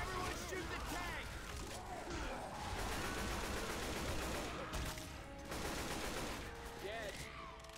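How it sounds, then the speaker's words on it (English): Rapid gunfire from several players shooting at the Tank in the video game Left 4 Dead 2, a dense sustained fusillade of shots with game effects and roars mixed in throughout. "Everyone shoot the tank."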